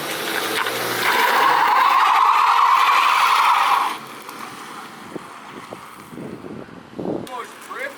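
A Nissan Cima drifting, its tyres letting out a sustained loud squeal for a few seconds over engine and wind noise, then cutting off to quieter idling with people talking nearby.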